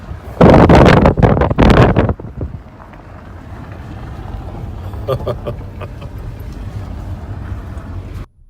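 Loud gusts of cold desert wind near Area 51 buffet the microphone in heavy bursts, then ease into a steadier, softer rush of wind.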